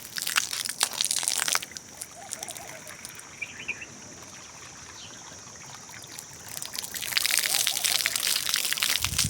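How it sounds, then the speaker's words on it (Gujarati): Water from a motor-fed supply pours and trickles into a container for birds, a steady splashing stream that grows louder at the start and end, with faint bird chirps outdoors. "તો પહેલાં આપણે પક્ષીઓ માટે પાણી ભરી લઈએ।"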